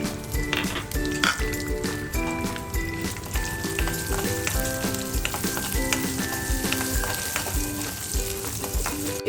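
Asafoetida and tempering spices sizzle steadily in hot oil for a ridge gourd and bottle gourd chutney, a continuous close crackling hiss with faint tonal sounds running underneath.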